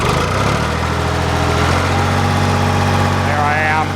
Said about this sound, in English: It's running perfect again. Started right up. I'm on low idle.